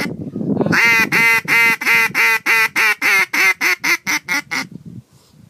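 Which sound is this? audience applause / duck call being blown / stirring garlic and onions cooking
duck call being blown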